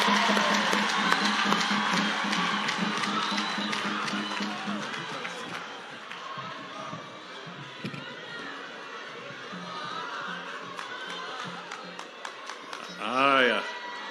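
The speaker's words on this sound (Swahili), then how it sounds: "Tupigeni makofi." Audience at an African Divine Church gathering in Nairobi, a large crowd clapping and cheering with steady chatter throughout, the applause fading over the middle and swelling briefly near the end.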